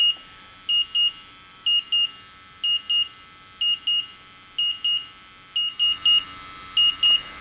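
A gas detector sounds its number 2 alarm, a repeating pattern of paired high-pitched beeps, clear and steady with short gaps between each pair, against a faint background hum.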